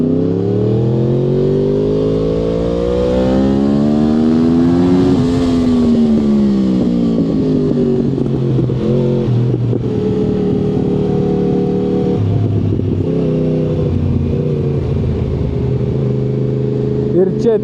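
A motorbike engine at the SpeedWay kart track in Elektrėnai revs loud and close, pitch climbing, easing off, then holding and shifting through sustained throttle changes.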